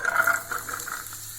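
Bitter gourd frying in oil in a pan on the stove, a steady soft sizzle with a brief stronger burst at the start, close and moderately loud, with no voices.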